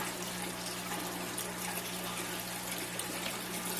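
Water runs steadily out of a pulled-out NFT hydroponic tube, which is fed by drip irrigation line from a 1-inch PVC pipe. The splashing, trickling flow is continuous and close, with no talk over it.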